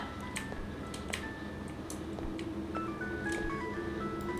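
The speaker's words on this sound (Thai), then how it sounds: "โทรศัพท์ดัง" A phone rings in the horror video game Araya, a tinny electronic melody of repeating notes playing alone at moderate volume over a faint, dark ambient hum.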